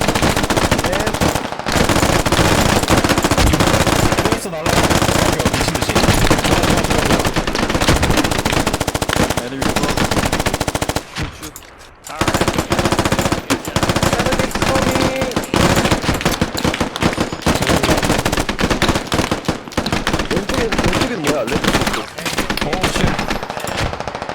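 Near-constant loud machine gun fire fills a shooting video game, with dense rapid bursts and booming shots that almost never let up. Only one short break comes near the middle.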